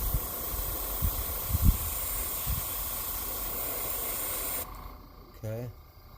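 An airbrush sprays purple paint through an Iwata stencil onto a 9-inch gizzard shad fishing lure, giving a steady close hiss that cuts off near the end, with a few knocks and faint speech.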